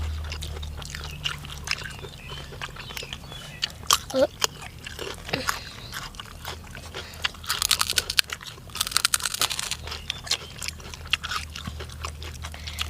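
Crunchy fresh shellfish salad being bitten and chewed up close, with a run of sharp, crisp crunches and wet chewing sounds that grow busier toward the end, with some talking mixed in.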